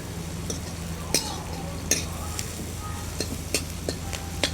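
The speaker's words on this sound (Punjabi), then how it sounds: "ਨਮਕ ਪਾਉਣ ਨਾਲ ਜਿਹੜੇ ਪਿਆਜ਼ ਆ ਉਹ ਥੋੜੇ ਜਿਹਾ ਜਲਦੀ ਭੁੱਜ ਜਾਂਦੇ ਆ" Onions sizzle as they fry in a pan while a utensil stirs and scrapes them, with sharp clinks against the metal repeating every second or so over a steady hiss.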